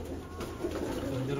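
Pigeons coo softly under a noisy, busy background, with a voice talking nearby during the brief moment.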